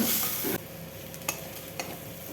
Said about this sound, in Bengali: এটা ভালোভাবে ভেজে নিতে হবে ভালোভাবে না ভাজলে আবার মুখে লেগে যাবে